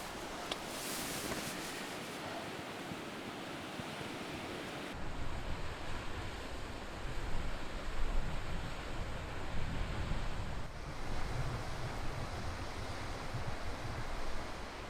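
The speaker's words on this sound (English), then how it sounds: "it is our backyard waterfall" Steady broadband rush of a backyard waterfall close by in the mountains of Northern Norway, continuous and fairly loud, with a breezy, wind-like texture and no voices.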